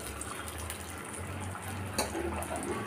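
Tamarind water poured into a pot of garlic kuzhambu, a continuous gushing liquid stream with a low rumble, close and steady for a few seconds without talking.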